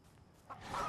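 A chicken in a video game being struck gives a short clucking squawk that rises near the end, quiet and alone over a soft game background.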